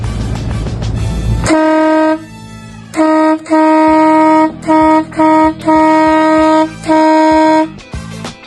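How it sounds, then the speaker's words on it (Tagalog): A loud electro-pneumatic truck horn from the Marco horn series blasts in a series of sustained honks, short and long, with brief pauses between, close and unaccompanied by talk. "So this is a truck horn."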